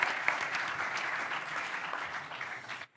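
Applause for everyone at a business anniversary event, a crowd clapping steadily for about three seconds with a dense, even patter that stops abruptly.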